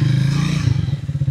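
A Triumph Speed 400 motorcycle accelerates close by, its engine note a strong low drone that breaks into a rapid pulsing throb as revs shift, loud and alone without talk.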